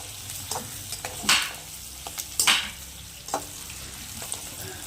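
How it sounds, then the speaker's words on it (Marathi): Chopped onion sautés in a pan over a wood-fired chulha, for a vegetable dish of peas, potato and cauliflower; a steady soft sizzle runs throughout, broken by several sharp scraping stirs of a spatula, close and alone without talk. "हे आता कांदा आपण टाकलेला आहे. कांदा परतून घेतो जरा."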